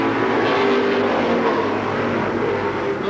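A Pontiac pro stock race car at Seekonk Speedway in 1992, engine roaring at steady high revs, sustained and loud with no break and no voices over it.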